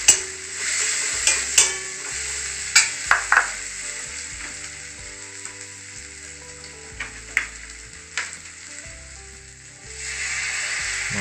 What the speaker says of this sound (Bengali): এটা ওই একই ফ্লেমে এটাকে কষাতে থাকবো।